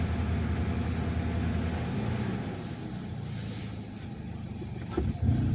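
A Toyota Vios engine idles roughly with a low, uneven rumble, its speed sagging toward stall before a slight rise near the end, heard steady and close without talk.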